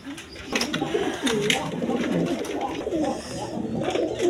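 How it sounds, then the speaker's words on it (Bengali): A pair of young silver-coloured American Lakha pigeons coo nearby, low rolling throaty calls repeating in uneven bursts over a steady background hum. "দর্শকবৃন্দ এখানে এক পেয়ার বেবি কবুতর আছে দেখেন"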